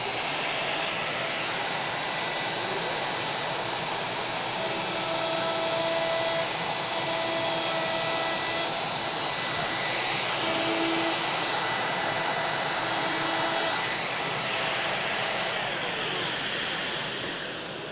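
A router with a 1/4 inch round-over bit cuts a shallow profile along a composite deck board, giving a steady, loud, close whine that holds evenly for the full stretch with no talking.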